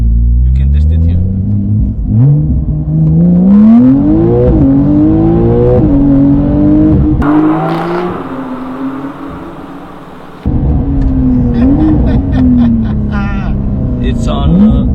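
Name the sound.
Porsche 992 Carrera 4S exhaust revving with pops and bangs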